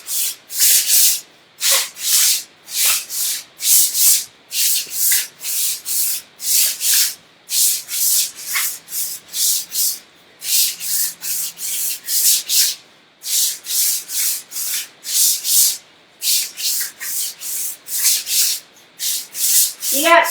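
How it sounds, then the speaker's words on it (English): Exercise floor sliders rub and scrape across the floor in a quick, steady rhythm, with bursts of hissy friction in pairs and groups and short pauses between repetitions, loud and close with no talk. "these sliders are making a ton of noise here"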